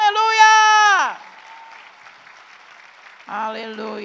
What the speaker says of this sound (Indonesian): berikan lagi tepuk tangan yang meriah bagi dia